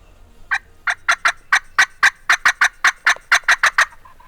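Wild turkey gobblers in Tennessee gobbling in a fast run of about fifteen sharp, rattling gobbles, loud and clear against a quiet background.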